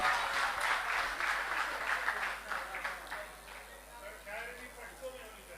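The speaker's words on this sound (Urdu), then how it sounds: "اس پہ ایک اور تالی ہونی چاہیے" Audience applause at a Pashto poetry mushaira in Hyderabad, Sindh: sustained clapping from a crowd fills the room, fairly steady then gradually thinning, with a host's voice heard over it.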